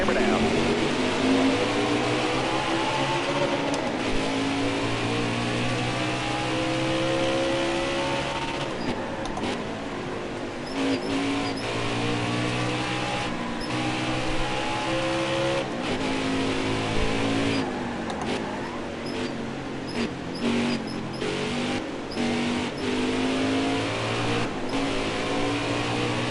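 Race truck engine in the NASCAR Heat 4 racing game, revving hard and accelerating off pit road with rising and falling harmonic gear sweeps, loud and continuous under a talking voice.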